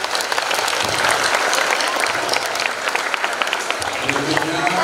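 Audience applause at a junior high school anniversary celebration in Yogyakarta, steady dense clapping from a crowd filling the whole stretch, with a voice speaking over it near the end.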